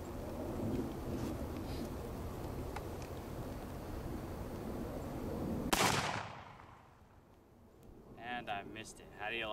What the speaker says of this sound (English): let's go ahead and attach an original bayonet. And let's take a shot at that Yankee steel.